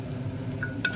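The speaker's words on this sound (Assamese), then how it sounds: "এতিয়া মই চাউলখিনি দি খুব ভাজিম" Rice frying in a pan with onion and ginger-garlic paste, a soft steady sizzle with a quick metallic clink of a utensil near the end.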